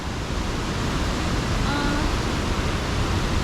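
Many small waterfalls at Rose River Falls cascade off rocks, making a steady, close rushing wash of water that holds an even level throughout, with no pauses.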